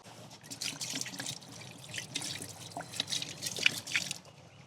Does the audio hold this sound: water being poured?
yes